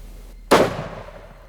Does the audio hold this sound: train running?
no